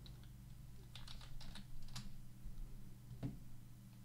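A few quick clusters of computer keyboard keystrokes, faint and close, tapping in short bursts against a quiet hum.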